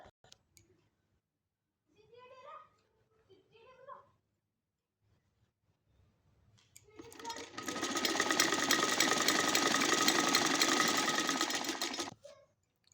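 Sewing machine stitching folded fabric for a baby cap for one- to three-year-olds, a steady loud whirring run of several seconds after brief talk, ending abruptly.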